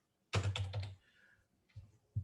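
Quick, close clusters of keystrokes on a computer keyboard, with a short burst of typing followed by a pause and a few more taps. No voices.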